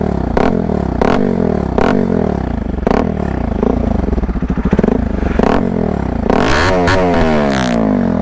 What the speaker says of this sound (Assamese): মোৰ বাইক এখন RS পূৰা এক্সজষ্ট লগাই থৈছে